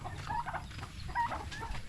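Hens on a backyard farm cluck in short, soft bursts, a couple of brief calls rising over a low, steady background murmur, fairly close but not loud.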